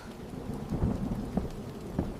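A thunderstorm with rain, a dense steady patter over a low rolling rumble of thunder that swells and fades a few times, heard alone with no voices.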